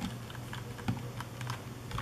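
Typing on a computer keyboard at a home PC, a quick irregular run of light clicking keystrokes with a few firmer taps, close and fairly quiet, with no talking.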